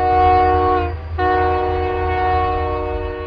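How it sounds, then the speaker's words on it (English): A loud, deep multi-tone steam whistle from Union Pacific Big Boy 4014 locomotive blasts close by, briefly breaks, then sounds again in a long sustained howl. "the haunting howl of a Big Boy steam whistle drifted over the UP Transcon"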